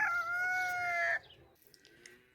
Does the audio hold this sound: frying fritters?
no